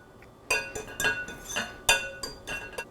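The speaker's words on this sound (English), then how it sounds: "Now take your whisk thing and mix it a little bit" A whisk mixing dry cake ingredients with salt in a bowl, making a series of sharp, irregular clinks and taps against the bowl, close and fairly quiet with brief pauses.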